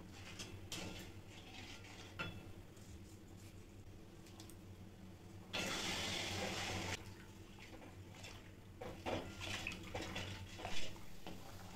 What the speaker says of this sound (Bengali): চিনিটাকে না গলা অবধি এরকম ঘেঁটে নেবেন, না হলে লেগে যাবে কড়াইতে।